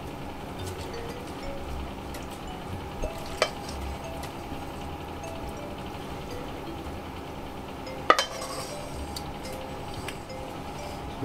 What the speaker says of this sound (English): we're just going to spoon that over it